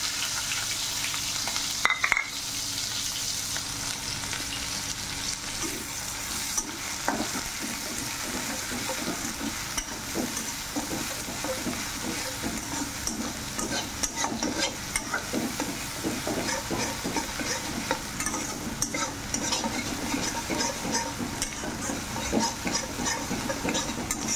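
Chopped onion and green chilli frying in a pan, a steady, loud, continuous sizzle with faint stirring scrapes throughout, no voices.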